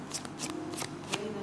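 A deck of cards being shuffled by hand in quick repeated riffles, close and crisp, with a voice faintly in the background.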